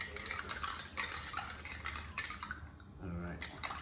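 A spoon briskly stirs tomato paste into hot water inside a metal can, giving a run of quick scraping, clinking strokes close by, with a brief pause near the end before the stirring resumes.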